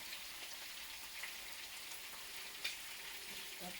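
A spatula scraping and stirring in a frying pan while cooking borscht ingredients, a steady close hissing rasp with a few brief louder scrapes and no talk.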